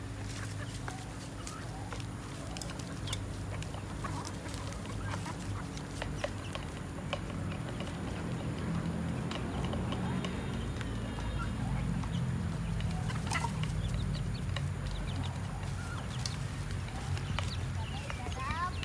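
Backyard chickens cluck and scratch around at feeding time, with scattered pecking taps and low fowl calls over about nineteen seconds while people talk nearby.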